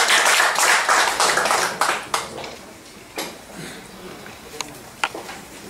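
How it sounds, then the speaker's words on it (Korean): Audience applause welcoming a speaker at a culture talk concert in Bucheon, loud clapping at first that thins into scattered claps and fades over several seconds. "큰 박수로 맞아주시기 바랍니다."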